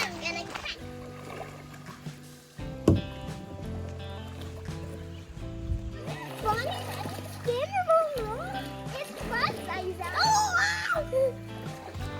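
Children splash and paddle in a cool creek on an afternoon outing, with water sloshing and occasional splashes close by. Their voices call and chatter over the water throughout.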